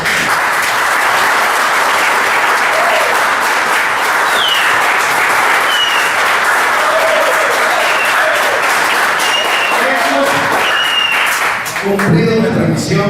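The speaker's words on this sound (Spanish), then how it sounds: "Vamos a dar un fuerte aplauso." Sustained, loud audience applause honoring engineer Rafael Ocorne at a computer technology program, dense steady clapping throughout with some cheering voices mixed in, thinning toward the end.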